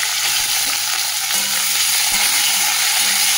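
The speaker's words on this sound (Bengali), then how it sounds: "আলুটা একটু ভেজে নেবো" Small diced potatoes fry in oil tempered with cumin, bay leaf and dried red chillies, a loud, unbroken close-up sizzle with steady stirring.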